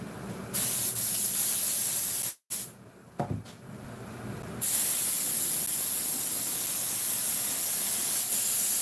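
Spray glue is applied to the upholstery of a beauty shop chair with loud, steady hissing bursts. One brief break comes partway through before the spraying resumes, with no talking.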